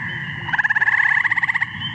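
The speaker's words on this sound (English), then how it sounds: "that is the call of the eastern gray tree frog" A single short, resonant trill from an eastern gray tree frog: a quick, steady burst of pulses, close and clear over faint background hiss.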